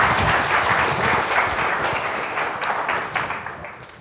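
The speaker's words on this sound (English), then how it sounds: "Please give him a round of applause as he comes up here to address us." A symposium audience applauds a speaker coming to the stage, a dense wash of clapping from a large room that slowly fades over a few seconds.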